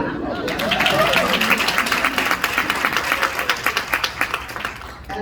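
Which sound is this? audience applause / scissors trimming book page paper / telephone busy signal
audience applause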